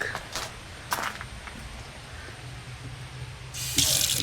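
Water hisses from a faucet into a sink, starting and stopping a few times, then gushing harder near the end; quiet and close.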